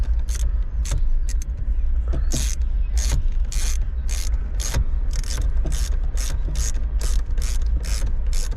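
A ratchet on a long extension clicks in rapid, repeated bursts while loosening bolts on a Ford Mustang being prepped for 1000 hp, close and crisp over a low garage rumble.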